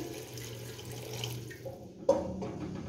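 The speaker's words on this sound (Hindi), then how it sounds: "ये पानी 1 गिलास डालेंगे।" A glass of water poured into a pot of kofta curry with green chillies, a soft running splash against a low background hum, ending in a sharper splash near the end.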